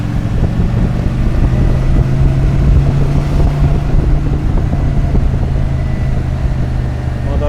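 A 1999 Kawasaki VN 800 C Drifter cruiser motorcycle rides along with a steady low engine rumble, heavy wind buffeting across the microphone throughout.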